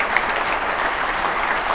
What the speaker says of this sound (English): No time for clap, my time's too short.